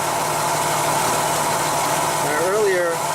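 Car engine idling steadily and evenly after a random misfire was diagnosed, a loud, constant low hum close by, with a person briefly talking near the end.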